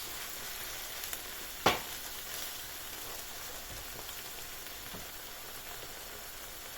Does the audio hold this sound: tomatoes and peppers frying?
yes